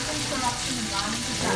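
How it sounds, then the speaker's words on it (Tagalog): Shrimp sautéing in a hot pan for pancit on a rainy day, with a dense, steady sizzle and crackle that stays close and even throughout and no talk. "Hipon, hipon, hipon, hipon. Gisa-gisa ulit."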